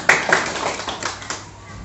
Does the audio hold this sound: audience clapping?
yes